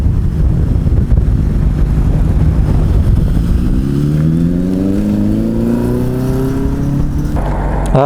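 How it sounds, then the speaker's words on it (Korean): Strong wind buffets a rider on a 600RR sport motorcycle, giving a loud, constant roar close to the microphone while the engine note climbs through rising revs. "바람 엄청 붑니다"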